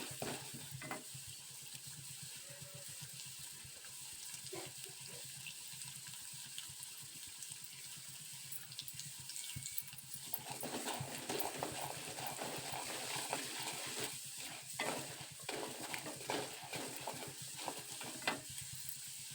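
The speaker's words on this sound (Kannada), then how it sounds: "ಕೆಂಪಾಗಿ ಕಾಸ್ಕೊಂಡು ಹುರ್ಕೋಬೇಕು" Ajwain and spices dry-roasting in a pan for raw mango chutney give a steady rough scrape and faint crackle with intermittent stirring clatter, growing busier midway, close and alone without voices.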